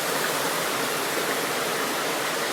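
Creek water cascading down beside a railway tunnel, a steady, dense rush of falling water filling the clip evenly with no breaks or voices.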